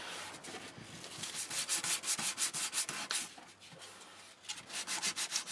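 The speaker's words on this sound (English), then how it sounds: "So this is just here I'm just sanding it away," Sandpaper scrubs over a Darth Vader helmet in a steady back-and-forth rhythm. The rasping strokes are close and clear, with no voices.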